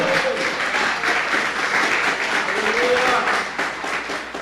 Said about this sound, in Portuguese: Se você crê nisso, dê uma salva de palmas ao Senhor.